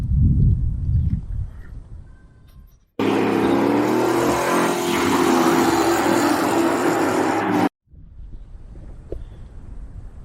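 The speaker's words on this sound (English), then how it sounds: "So it has a Turbo LS engine in it." A turbocharged LS V8 in a 1962 Chevrolet C10 pickup revs loudly and steadily for about five seconds, with quieter engine rumble and wind noise before and after.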